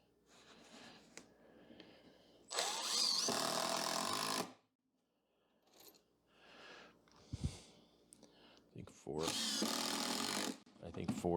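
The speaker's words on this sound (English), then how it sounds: "Put a couple screws in to square it up." A power drill drives screws into wood in two loud, close bursts of a couple of seconds each, separated by quieter handling noises and some talking.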